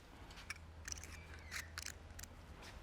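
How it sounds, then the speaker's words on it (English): A Stanley knife slices through a 55mm or 75mm foil-backed roofing insulation blanket in faint, scattered scratchy strokes over a low, steady background hum. "We're just going to cut back the blanket without cutting the foil."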